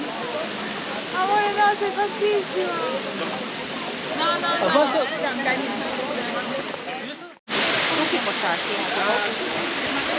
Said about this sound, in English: 87 metres, highest waterfall in Croatia.